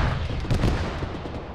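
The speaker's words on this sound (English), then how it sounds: "There's auto cannon fire near." A short stretch of rumbling, booming autocannon fire in the military video game Arma, dull and somewhat distant, forming a dense roll of low thuds with no talking.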